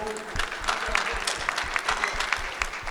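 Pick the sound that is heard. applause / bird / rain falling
applause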